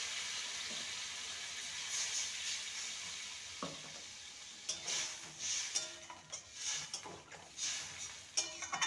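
Ridge gourd and potato pieces coated in spices sizzle steadily in a pan after water is added, with a low continuous hiss and intermittent scraping stirs, soft and close, with no talking.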